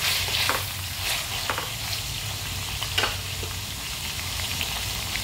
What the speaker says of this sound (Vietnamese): thì đây thì mình chiên đừng có chiên vàng quá này